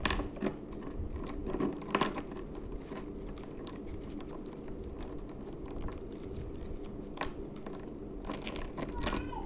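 Keys jangle with light metallic clinks and short rattles scattered through a quiet room, close by and soft, with taps and faint background noise in between.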